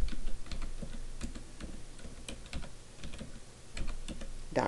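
Fingers type a domain name on a computer keyboard in a quick, uneven run of close, crisp key clicks with short pauses, no voices.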